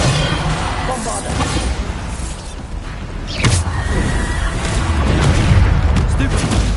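The Bombarda explosion spell going off in Hogwarts Legacy: a loud, booming blast with a sharp hit partway through, heard inside dense, continuous game noise.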